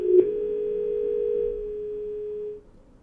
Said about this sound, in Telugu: కాల్ కట్ అయినట్టుంది